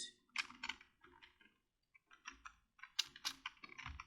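Keys clack in quick, uneven bursts on a computer keyboard while code is typed, close and fairly quiet, with a short pause midway before the tapping resumes.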